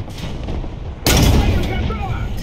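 A Russian tank cannon fires in War Thunder: a single sudden, loud boom about one second in, with a rumbling tail that rolls on and slowly fades under low background noise.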